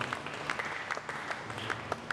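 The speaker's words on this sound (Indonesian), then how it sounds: "Tepuk tangan untuk kemuliaan Tuhan." A congregation claps at a church service during a sermon, with quiet, scattered applause of loose, uneven hand claps heard at some distance and fairly faint.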